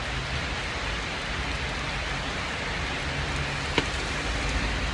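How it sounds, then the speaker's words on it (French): Heavy summer rain pours down steadily as a dense, even hiss, with a single sharp tap standing out near the end. "Il pleut quoi. Fort."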